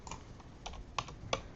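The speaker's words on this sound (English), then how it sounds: "so you just type it in" Typing a hashtag on a computer keyboard, four or five separate close key clicks at uneven intervals, with a sharper, louder tap at the very end.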